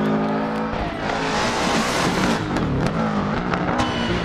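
A rally car in the video game DiRT Rally 2.0 on a German rally stage, its engine revving hard and shifting through gears at full grip while tyres scrabble and squeal through fast corners, close and continuous.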